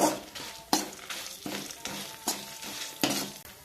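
Five dried red chillies are stirred into sizzling oil in a pan for Chettinad chicken curry, and a spoon scrapes the pan in regular, close strokes over the continuous frying hiss.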